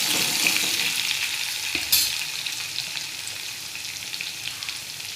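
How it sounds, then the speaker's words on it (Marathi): Mustard seeds, cumin and garlic sizzle loudly in hot oil with a dense, crackling hiss that softens slightly over a few seconds, and a single sharp clack of a utensil partway through. "आता मोहरी टाकून घेते आणि जिरं टाकून घेते. त्यानंतर आपण लसूण पण टाकून घेऊ."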